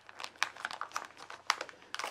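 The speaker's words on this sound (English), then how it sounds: "these separate bags that we just tear off" Plastic bags of diamond-painting beads being torn open and crinkled, a string of sharp close crackles and rustles in irregular bursts, with no talking.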